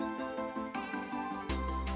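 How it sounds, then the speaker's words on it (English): A cat meows repeatedly at close range, several drawn-out harmonic cries in a row with a louder, sharper meow near the end, heard indoors during a programming session. "Stop meowing. Be nice."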